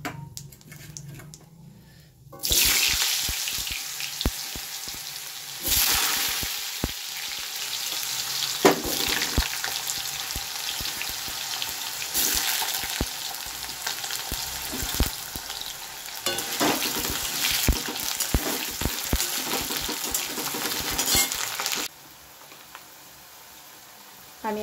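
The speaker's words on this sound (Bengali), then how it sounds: "ফোড়ন দিয়ে তেলের মধ্যে একবারে আলুটা ভাজবো।" Potatoes dropped into hot oil tempered with cumin and dried chilli burst into a loud, close sizzle after a quiet start. Stirring scrapes recur throughout, then the frying drops away near the end.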